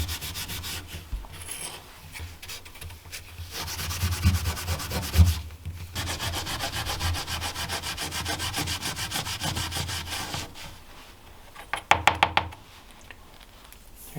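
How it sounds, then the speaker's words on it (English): Lacquer finish on a custom guitar body being hand-polished, a close, continuous scratchy rubbing with rhythmic back-and-forth strokes and a few light knocks near the end. "we'll hit it with some little bit of polishing maybe. Just quickly like that."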